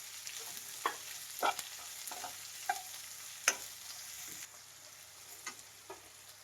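A spoon stirs green chillies in a frying pan: quiet, steady frying with a string of soft scraping clicks spaced unevenly.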